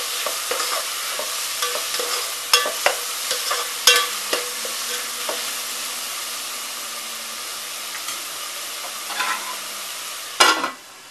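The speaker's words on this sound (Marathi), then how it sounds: "एक मीडियम साइज कांदा, मीडियम साइज टोमॅटो, हे आता छान आपण मस्त असं शिजवून घेऊया" Onion and tomato cooking in a pan for stuffed crab, a steady soft sizzle with intermittent stirring scrapes and clinks of a utensil, ending with a louder clatter.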